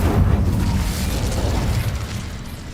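Incendio fire spell cast in the Hogwarts Legacy video game, a loud, continuous rumbling whoosh of flame and burst that holds steady for nearly three seconds before easing slightly, with no voices.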